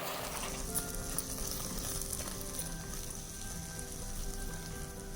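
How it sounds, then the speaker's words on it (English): Chopped tomatoes frying in a pan for a banana flower dish, giving a steady, close sizzle and crackle that runs unbroken with no talking. "add the chopped tomatoes. Fry until the moisture in the tomatoes is absorbed"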